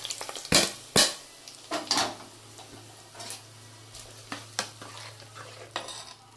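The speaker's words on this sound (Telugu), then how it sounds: "ఇదిగో తాలింపు పెట్టేశానండి. ఇదిగో ఈ పప్పు గోంగూరలో పోస్తున్నాను చూడండి." Hot tempering poured into a pot of gongura dal, giving sharp bursts of sizzling with clinks of a metal pan and ladle, then fading to quieter crackles and occasional utensil taps.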